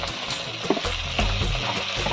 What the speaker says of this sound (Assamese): পিঁয়াজখিনি খুব ভালদৰে লৰাই ভাজি ল'ব।